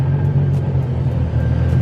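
A BMW M340i, parked with its bumper removed, idles steadily at close range, its deep, even engine rumble continuing without a break.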